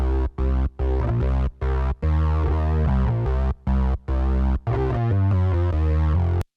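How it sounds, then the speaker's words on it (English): A buzzy Farfisa-style organ bass line in stereo, with modulation and delay, plays a choppy sequence of sustained notes with a wide, wobbling, slightly echoing character, loud and without any voices. "we also have another bass track called Bass Farfisa, and it's a stereo bass, which sounds like this."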